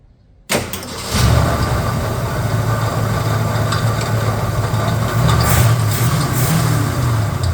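A 1966 Ford Custom engine fires up after a moment of quiet, then settles into a steady, loud idle, burning off old stale gas with a continuous low rumble close by.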